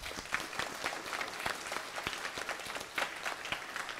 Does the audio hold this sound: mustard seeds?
no